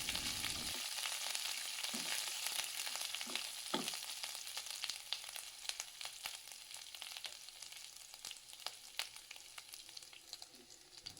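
Green chillies, ginger-garlic paste and curry leaves frying in a pan, a sudden sizzle that settles into a continuous crackle with scattered sharp pops and a few stirring scrapes.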